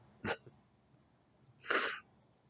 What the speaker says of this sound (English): I got these sneezing attacks going on lately